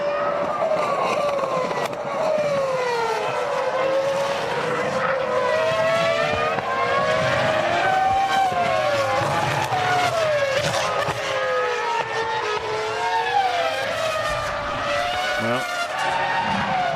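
Formula 1 cars racing at the 2005 United States Grand Prix, engines screaming continuously with rising and falling pitch sweeps as several cars pass close by, loud and steady throughout with no talk.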